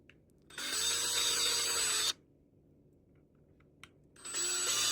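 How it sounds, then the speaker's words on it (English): A power drill with a small bit whines loudly for about a second and a half drilling a pilot hole in a Ford Transit, stops, then starts again after a short pause, close up with no talking. "I'm going to start out with a small drill bit, just so I can make like a nice little pilot hole"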